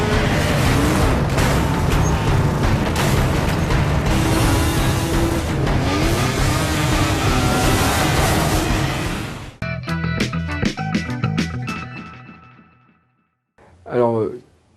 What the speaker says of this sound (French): En effet, point de voiture ici, mais des motos, des buggy et autres quads.